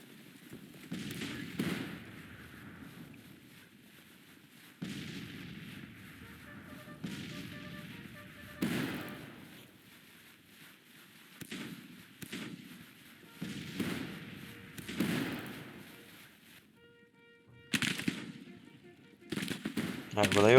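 Battle gunfire in the Civil War strategy game Grand Tactician, with repeated bursts of rattling musket volleys and distant booms coming in waves, separated by quieter gaps, with a voice talking at times.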